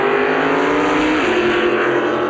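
Drag racing cars, including a 1977 Monza, launching at the 1982 NHRA NorthStar Nationals: a loud, sustained engine roar that shifts upward in pitch partway through, heard alone without talk.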